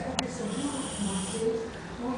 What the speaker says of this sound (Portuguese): Nunca vi cachorro roncar